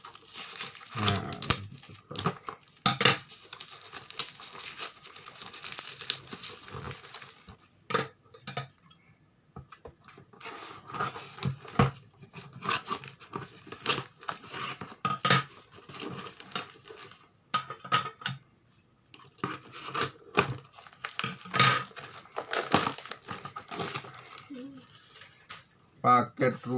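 Unwrapping a MikroTik RB951 series router package: continuous close crinkling and rustling of plastic and cardboard with occasional clinks and tearing bursts, mixed with a person speaking on and off.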